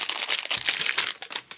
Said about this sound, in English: Excuse the plastic noise